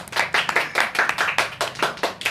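Rhythmic hand clapping from a small group in a talk segment, about a dozen crisp claps in quick succession, close and clear with no voices.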